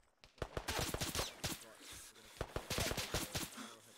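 Rapid bursts of gunfire in a military squad video game, sharp repeated shots crackling in clusters, loud and close, with voices talking over the shooting.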